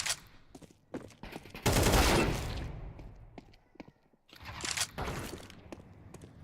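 Video game gunfire erupts in loud, dense bursts: a heavy volley near the start of the second second, scattered single shots, then another sustained burst before fading, with no voices.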